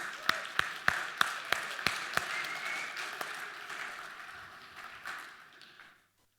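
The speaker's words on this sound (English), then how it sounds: "let's give a big round of applause to all of you that are still here" Audience applause at a tech conference talk: a run of loud, sharp claps near the start over a steady crowd clapping wash that gradually thins and fades out, ending in silence.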